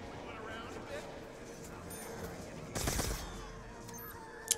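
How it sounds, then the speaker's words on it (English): Rapid laser-gun fire from an upgraded weapon in Call of Duty Black Ops 3 zombies on the Buried map, a dense burst of shots standing out over game noise and voice, with a sharp blip at the end. "Shooting lasers now. The little 115 lasers."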